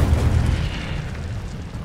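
An Incendio fire spell goes off in Hogwarts Legacy, a loud booming burst of flame that rolls out and slowly fades over about two seconds, with no talking over it.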